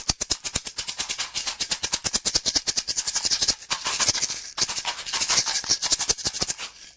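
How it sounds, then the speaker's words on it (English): A Shonga tunable shaker played close and loud, first in fast even strokes and then in denser, smeared rolling swishes with short breaks, heard alone without talk. "All kinds of really cool sounds out of that shaker."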